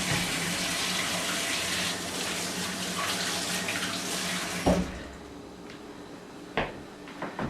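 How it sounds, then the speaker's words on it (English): Water runs strongly from a kitchen tap as hands are washed before kneading meatball mixture. The flow cuts off partway through and is followed by a few sharp clunks and knocks. "excuse me while I wash my hands"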